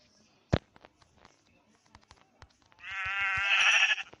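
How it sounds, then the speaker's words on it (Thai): A sheep in the Minecraft video game gives one loud, wavering bleat. It follows scattered clicks and brief game sounds, and there is little or no talk. "แกะครับไปดูสังหารโหดแกะ"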